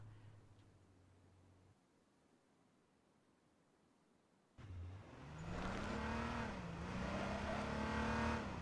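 A police car drives through water in a video game. A faint hush gives way to a louder engine hum whose pitch climbs and wavers with a watery wash, and no one speaks.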